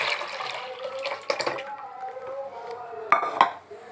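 Tamarind juice poured into a cooking pot for sambar, splashing liquid mixed with metallic clinks and knocks of the pot and utensils, close up and fairly loud.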